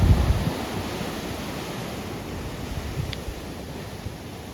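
Steady ocean surf and wind at a shore make a broad, continuous rushing wash that fades slightly over a few seconds, with no voices.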